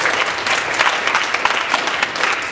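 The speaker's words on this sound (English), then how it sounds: "Please give another round of applause for Sarah." A crowd claps steadily and loudly throughout, a dense wash of applause with no voices breaking through.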